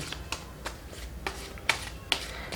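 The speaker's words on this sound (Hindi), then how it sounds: "कार्ड शफल करते हैं।" A deck of tarot cards is shuffled by hand close by, giving a handful of sharp, crisp riffle snaps at irregular intervals over a quiet background.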